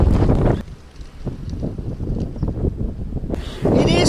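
A strong summer gale on the north coast of Scotland buffets the microphone with loud roaring gusts at the start and end, easing to a quieter rumble in between.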